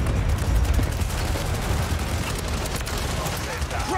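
Dense automatic gunfire from Call of Duty: Modern Warfare 3 (2023) multiplayer, a steady loud wash of rapid shots and impacts filling the whole stretch with no pauses.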